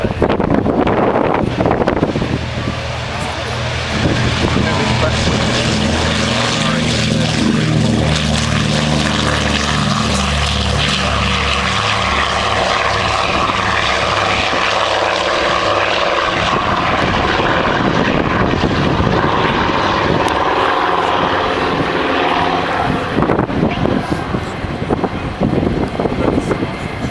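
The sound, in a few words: Catalina aircraft engines during takeoff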